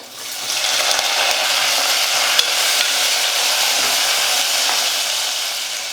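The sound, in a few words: sautéing chopped onion with garlic and curry leaves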